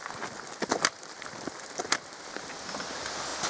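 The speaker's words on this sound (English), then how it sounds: "Not bloody heavy rain and thunder." Heavy rain falls during a wild camp on a firing range: a steady broadband wash of rainfall with scattered sharp drips and patters that thickens toward the end, with no voices.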